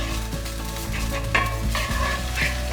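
Shallots sizzle and fry in hot oil in a pan, a loud, steady crackle with occasional stirring scrapes, heard up close without speech.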